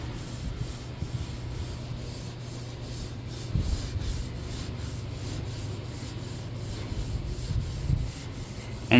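Steel wool rubbed back and forth over the painted surface of a used machine, giving a rhythmic, gritty scrubbing sound at close range with a low hum beneath it and no talking.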